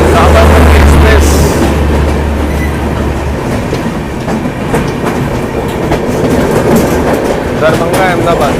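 The Sabarmati Express, running from Darbhanga to Ahmedabad, rolls by loud and close with a constant rumble, rhythmic wheel clatter and occasional squeal, while a voice talks over it.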